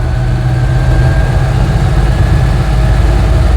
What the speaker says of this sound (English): So this is my Invacar, built for wheelchair users in 1972. Has an air-cooled flat twin engine, 493cc, CVT belt drive